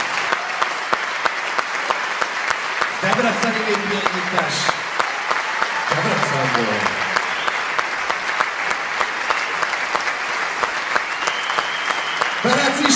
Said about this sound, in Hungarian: egy hatalmas nagy tapsot